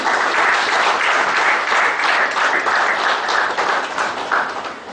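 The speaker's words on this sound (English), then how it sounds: "Big round of applause, ladies and gentlemen." A seminar audience on GST applauds the inauguration with loud, sustained clapping from many hands, dense and steady throughout before easing slightly at the end.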